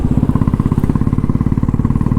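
A second-hand Royal Enfield Bullet Standard motorcycle engine idles close by with a fitted aftermarket silencer, giving a loud, steady, rhythmic thump without pause.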